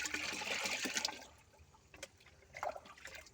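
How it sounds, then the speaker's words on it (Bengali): Soaked oil-cake water poured from a bucket onto a garden plant, a broad watery splash and trickle for the first second that fades to faint dribbles and drips. "এবার আমি এতটা পরিমাণে জল দিয়ে দিলাম, এই খোল ভিজানো জল দিয়ে দিলাম"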